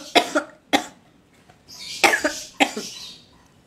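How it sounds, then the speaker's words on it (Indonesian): A woman coughs several times in short, sharp bursts, with a couple of harsher, breathier coughs toward the end, close to the mic in a quiet indoor room. "Aduh aku batuk guys"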